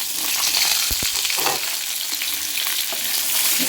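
Spices sizzle and crackle in hot oil in a pan for ivy gourd masala, a steady bright frying hiss with a few sharp pops, close and alone.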